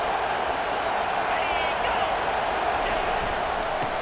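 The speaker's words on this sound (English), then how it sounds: "Decibels rising as the crowd gets behind this defense on 3rd down." Stadium crowd at an American football game roaring steadily as the defense lines up on third down, a dense continuous wash of cheering throughout.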